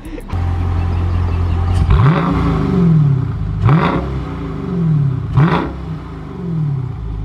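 A Dodge Scat Pack with its mid muffler deleted revs three times in quick succession up close, each burst rising sharply then dropping back to a rumbling idle.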